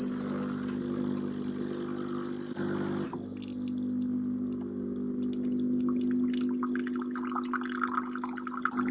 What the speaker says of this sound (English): press this hot water button here, and then again press start brew, and you'll get some hot water